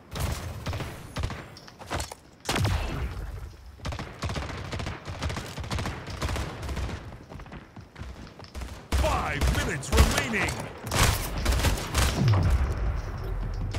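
A shotgun fires repeatedly in the arena shooter Splitgate. Sharp, punchy blasts come at irregular intervals over busy game sounds, with occasional talk mixed in.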